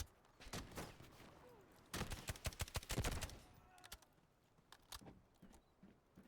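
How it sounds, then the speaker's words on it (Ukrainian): Bursts of rapid unsilenced gunfire from the video game Delta Force crackle in quick volleys, loud then tapering into scattered sporadic shots over faint background noise. "хто ж стріляє без цього? Без глушителя"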